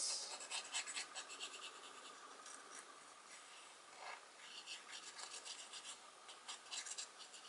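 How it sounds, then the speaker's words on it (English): Wooden edges of a miniature roombox being sanded by hand, a quiet, steady rasping scratch in repeated strokes, close up and alone. "if you use uh, wood, just like me, you have to sand it, uh, the edges"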